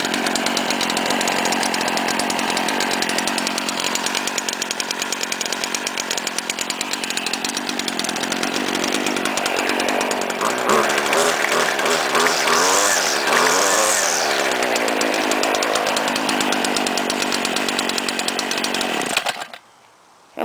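A gas string trimmer engine runs steadily up close with a buzzing two-stroke drone, revving briefly midway before cutting off near the end; no one speaks.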